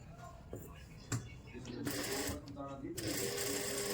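A sewing machine stitches a lined kurti in short bursts, with a brief run near the start and longer whirring runs later. It is fairly faint and close, and a voice talks over it.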